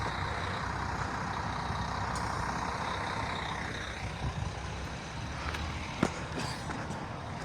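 A bus rolls past on a road through the Sorkheh Hesar protected area, giving a steady, fairly loud broadband rumble that eases slightly midway, with a sharp click or knock near the end and no voices.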